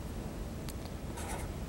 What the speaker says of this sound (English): we'll write that number down